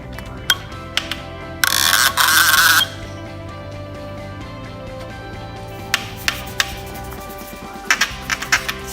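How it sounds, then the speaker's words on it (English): EBS260 handheld inkjet printer marking a four-line message on a pipe in one pass, with a short burst of rapid mechanical buzzing amid scattered clicks and ratchet-like ticks, over a steady background hum. "So here we're printing a 4-line message in one pass."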